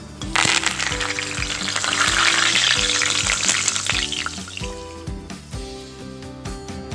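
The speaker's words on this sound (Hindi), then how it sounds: "इसी तरह से मेरे करी पत्ता भी हो गया है पूरा क्रिस्पी।" Curry leaves frying in hot oil give a loud, steady crackling sizzle, with a few metallic clinks and taps of a utensil against the pan.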